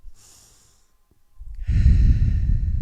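A slow deep breath during a yoga sun salutation: a soft airy exhale, a pause, then a loud, close inhale through the nose that swells and holds steadily, with no talking.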